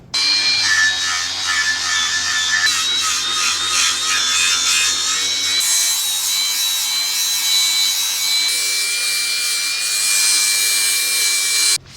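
An angle grinder strips paint off a metal trailer jack plate down to bare metal, producing a loud, continuous high-pitched grinding whine that shifts pitch midway as the load changes, close up and without talking.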